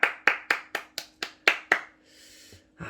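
A youth church congregation at a Sunday worship service claps in thanks, about eight crisp close claps in a steady rhythm followed by a faint hiss and a final soft knock.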